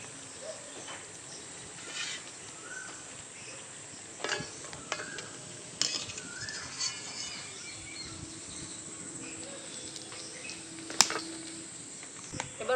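Khaja pastries deep-fry in a pan of oil, a soft, steady sizzle at low volume broken by occasional sharp clinks and stirring sounds from the cookware.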